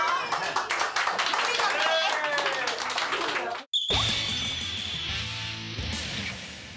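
An audience claps in quick bursts at the Itami town bar festival, sharp hand claps mixed with people talking, then an abrupt cut to a different, busier scene.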